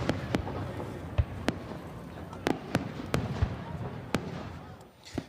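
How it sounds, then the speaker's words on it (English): Canada Day fireworks at Woodbine Beach boom in sharp, widely spaced bursts, about a dozen cracks and thuds over a constant murmur of a large outdoor crowd. "the celebrations yesterday were capped off with fireworks, of course. And there was a spectacular show at Woodbine Beach."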